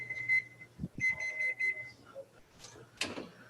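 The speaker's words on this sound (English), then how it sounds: "So I hear the timer." A kitchen timer rings for souffles baking in the oven, giving short bursts of steady electronic beeping at moderate distance among some room bumps and knocks.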